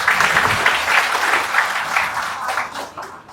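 A short burst of audience applause during a railway job success-story interview, dense and fairly loud, thinning and fading over the last second.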